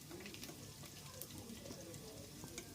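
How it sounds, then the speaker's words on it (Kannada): Chopped onions fry in a pan alongside drumsticks for a drumstick chops dish, making a faint, even sizzle and crackle that holds steady throughout at low volume. "ಈರುಳ್ಳಿಯನ್ನು ಕೂಡ ಸೇರಿಸ್ಕೊಳ್ತಾ ಇದ್ದೀನಿ ಇದನ್ನು ಕೂಡ ಫ್ರೈ ಮಾಡ್ಕೊಳ್ಬೇಕು"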